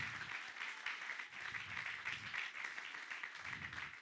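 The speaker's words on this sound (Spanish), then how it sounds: "Dale un aplauso al Señor." A church congregation applauds steadily and continuously, a dense, even patter of many hands clapping that stays fairly distant and soft throughout.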